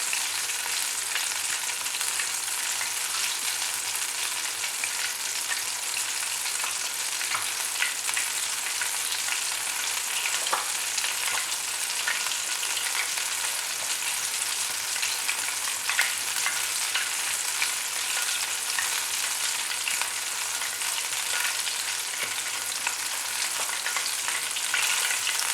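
Chicken coated in Hapima crispy fry mix fries in hot oil with a dense, continuous sizzle that stays steady and close throughout, with no talking.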